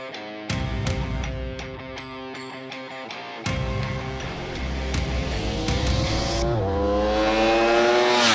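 A 2025 Ducati Streetfighter V4 S motorcycle engine on Spain's Andalucia race circuit screams loud and close, revving hard through rising pitch sweeps with sharp shifts and climbing again, with no voices.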